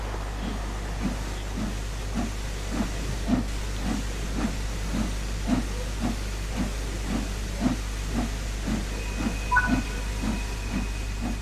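Steam locomotive in Train Sim World 3 pulling away with cylinder cocks open, giving a steady rhythmic chuff of hissing steam bursts that gradually quicken over a continuous low rumble, with a faint thin whistle-like tone near the end.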